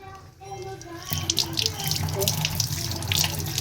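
Water runs steadily from a household tap as hands and face are washed, a close, continuous rushing splash that starts after a brief quiet moment and carries on to the end, with a faint voice in the background.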